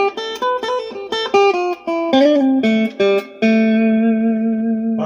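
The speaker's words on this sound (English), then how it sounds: "Middle position, middle pickup by itself." A Glarry GST electric guitar on its middle pickup alone plays a clean, bright run of plucked single notes and small chords, ending on a held ringing note, loud and close with no talking.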